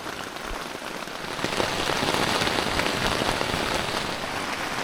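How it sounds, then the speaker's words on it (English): Heavy rain pelting a tent during island canoe camping, a dense continuous patter of drops that swells louder partway through and holds steady, close and enveloping, no voices. "The rain's coming down pretty hard."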